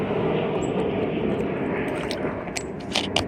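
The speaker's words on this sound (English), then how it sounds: "It's a plane." An airplane passes overhead on a mountain bike trail, heard as a steady broadband rumble that stays fairly constant throughout, with faint higher hiss near the end.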